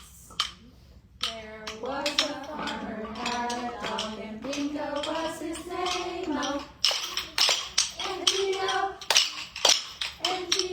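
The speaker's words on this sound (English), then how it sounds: "we're going to clap our sticks twice." Children at a library story time tap wooden rhythm sticks together, giving sharp clicks in short pairs between and under a sung nursery song.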